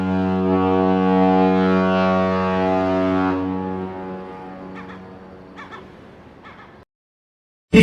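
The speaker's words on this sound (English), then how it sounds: "S for ship." A deep ship horn blares alone in a long sustained tone lasting about three seconds, then fades out, followed by a few faint sharp clicks and a brief loud burst at the very end.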